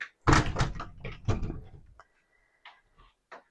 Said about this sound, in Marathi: आपण दार बंद करून घेऊया